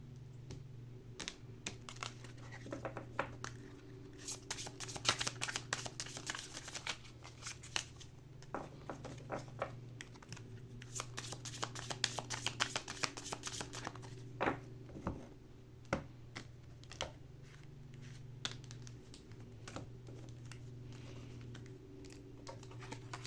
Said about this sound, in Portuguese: Vamos então tirar só mais 2 cartas para finalizar aqui a mensagem.